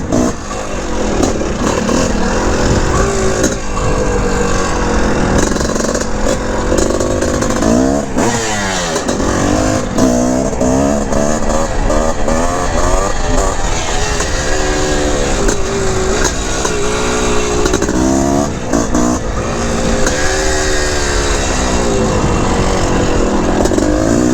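A 1981 Honda CR450R Elsinore big-bore two-stroke motocross bike rides a track loop, its loud raspy engine revving up and down continuously through gear changes, close and dominant throughout.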